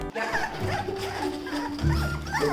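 A litter of eleven Indian street dog puppies whimpers and yips in thin, high cries that overlap one another, close and fairly quiet, with some rustling movement among them.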